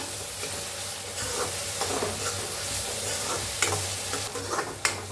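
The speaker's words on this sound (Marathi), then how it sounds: "कांदा छान असा भाजून घ्यायचा आहे" Onion sautéing in a pan with a little salt for a spicy village-style chicken curry, a continuous soft sizzle with scattered spatula scrapes and taps, close and moderately quiet, no voices.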